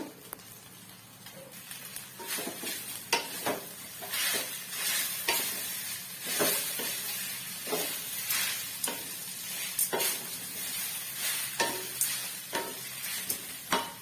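Cooked rice is stirred and mixed in a hot pan for mustard coconut rice, with repeated scraping strokes over a soft, continuous sizzle, close and moderately quiet.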